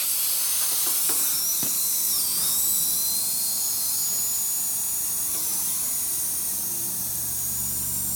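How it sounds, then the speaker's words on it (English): Compressed air leaks from a loose hose fitting on a VEVOR CUT-50P air plasma cutter setup, a continuous loud high-pitched hiss that holds steady throughout, with faint handling knocks underneath. "So we have an air leak."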